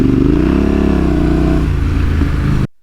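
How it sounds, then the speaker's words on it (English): A Yamaha Tenere 700 adventure motorcycle on a rocky river track, its engine droning loud and close with rising revs as the rear tyre spins, steady throughout before cutting off near the end. "this back tyre is just spinning on everything"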